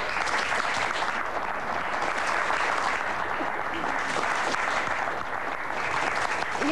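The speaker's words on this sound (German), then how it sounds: "erstmal am Applaus für meine beiden Gäste" A German TV studio audience applauds the host's two guests on a live Sat.1 talk show, with dense, sustained clapping filling the room at an even level throughout.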